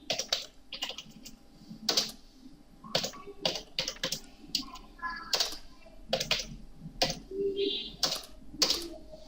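Typing on a computer keyboard while working in AutoCAD, with irregular bursts of close, crisp key clicks and taps, and some softer sounds between the keystrokes.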